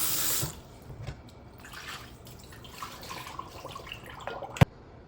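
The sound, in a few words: water running while washing meat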